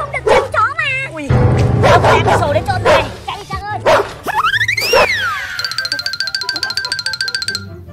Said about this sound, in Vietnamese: con chó này nó lại rồi